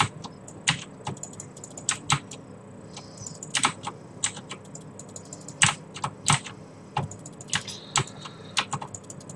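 Fast, irregular bursts of sharp clicks from mouse buttons being spammed during a Rift game session, close and fairly loud over a faint steady background, with no talk.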